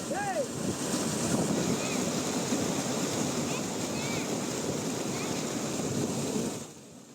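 Floodwater rushes over a submerged causeway at Vaigai Dam in a steady, loud, broadband roar that runs unbroken for several seconds before fading at the end, with no voices heard.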